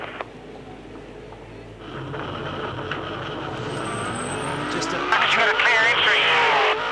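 A Supercars race car from the 2003 Queensland 300 crawls through the pit lane at 40 km/h on a drive-through penalty, a steady engine drone rising gradually with a high whine, under commentary.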